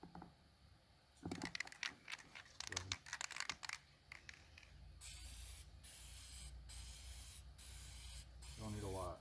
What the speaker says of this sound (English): we're going to spray the aluminum manifold first